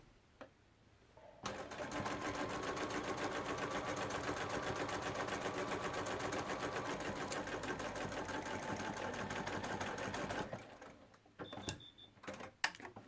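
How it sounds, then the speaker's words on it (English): A sewing machine stitches binding onto the front of a quilt, running in one long steady burst of rapid needle chatter for about nine seconds, then stopping, followed by a few light clicks and handling sounds. "Now that we've sewn the binding around the front"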